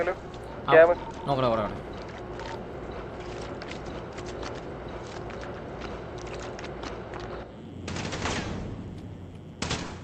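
Bursts of game gunfire crackle in short volleys amid a busy background, with a couple of louder shots near the start and a burst near the end.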